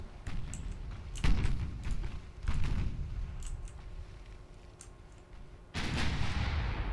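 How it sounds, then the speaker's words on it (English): Heavy naval guns firing during a sea battle against a heavy cruiser in Ultimate Admiral Dreadnoughts: three loud booming salvos, each followed by rumbling decay, with distant muffled reports in between. "Keep firing on the heavy cruiser."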